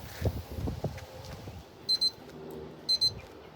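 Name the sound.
smoker thermometer timer alarm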